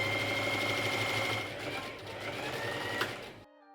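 A sewing machine runs steadily, stitching a sleeve seam on a child's dress made over from a man's shirt, its motor hum continuous and close, slowing briefly near the end before cutting off.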